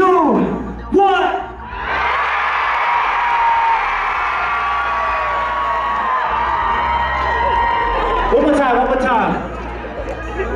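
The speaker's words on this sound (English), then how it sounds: "I'm gonna say 3, 2, 1, and everybody scream" A packed concert crowd at a world tour show in Osaka screaming and cheering in a loud, sustained roar for several seconds, cued by a countdown and a shout from the performer on stage, then fading.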